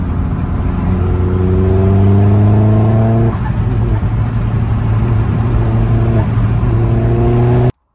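A Vauxhall Astra VXR engine revs loud and close under hard acceleration, its note climbing steadily, dipping once at a gear change, then rising again without a break.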